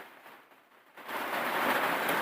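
Rain with wind starts faint, then swells after about a second into a steady, broad, hissing downpour that holds at full strength to the end.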